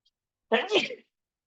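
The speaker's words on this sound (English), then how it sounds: "So that sneeze finally came." A single sneeze, short and sharp, close to the microphone, surrounded by silence.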